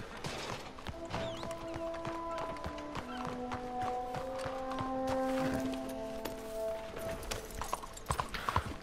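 Horse hooves clip-clopping on a town street in Red Dead Redemption 2, a steady trotting rhythm of hoof strikes at close range beneath in-game ambient tones and background noise.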